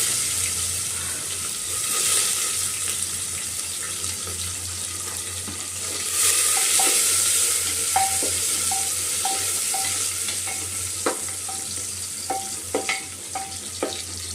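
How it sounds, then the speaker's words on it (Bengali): Onions fry in a pan with bay leaf and dried chilli, a steady, close sizzle running throughout, with scattered light clicks and taps of stirring toward the end. No one speaks. "এখানে পেঁয়াজটা ভালোভাবে একটু লাল লাল করে নেবো"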